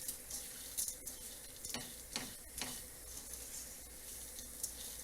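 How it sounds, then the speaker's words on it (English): Hot liquid bubbling over simmering pasta and rice in a pan on the stove, a quiet continuous sizzle with soft stirring scrapes and light popping, faint and close with no voices. "So I'm adding hot liquid to the hot pasta and rice."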